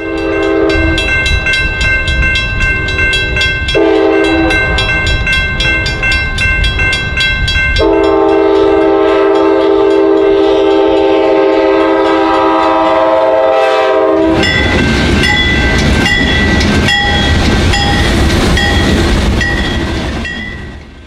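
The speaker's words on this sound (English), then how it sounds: "two Amtrak P32 diesels are being used in a special power move out of Chicago" Two Amtrak P32 diesel locomotives on a special power move out of Chicago blast a loud multi-tone horn in long repeated blasts, the diesel roar and wheel clatter continuing close by throughout.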